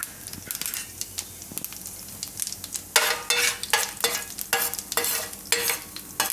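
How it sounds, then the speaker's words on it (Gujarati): Mustard seeds and cumin sizzle and crackle in hot ghee for a Gujarati tempering, starting as a soft fizz and then bursting into loud, close popping spurts over a steady hiss. "તો એમાં આપણે નાખીશું થોડુંક રાઈ અને જીરું"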